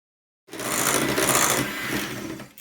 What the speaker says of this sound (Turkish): Şimdi pürüzsüz olana kadar çırpacağım gene mikserle.